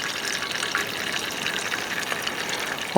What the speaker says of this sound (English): I'll just pour some of this steak juice over it